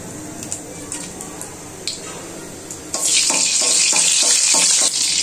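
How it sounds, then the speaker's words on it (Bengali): Dried red chillies tossed into hot oil for a masoor dal tempering set off a sudden, loud, steady hissing sizzle that fills the second half, after a few faint kitchen clatters. "আমি তেলে 2টা শুকনো মরিচ ছিঁড়ে দিচ্ছি।"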